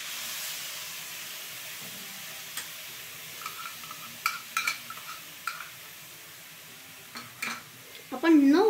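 Tomato puree stirred into onions and spices in a hot pan, a soft hiss and sizzle with scattered scraping and stirring knocks from a spoon, fairly quiet and close.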